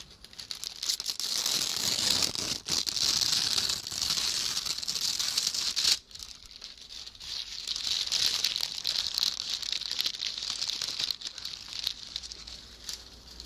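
Paper is crumpled and crinkled close up for a long stretch, with a brief pause partway through before the rustling resumes.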